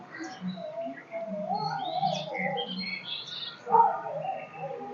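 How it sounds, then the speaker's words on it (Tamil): Asian koel and crows calling around a house, a busy mix of chirps and caws at moderate distance over steady background noise, with one louder call near the end. "எங்கள் வீட்டு குயில் காகம் எல்லாம் வந்து நீ மட்டுமா பேசுவ நானும் பேசுவேன்னு எல்லாம் சண்டை போட்டு பேசிகிட்டு இருக்காங்க"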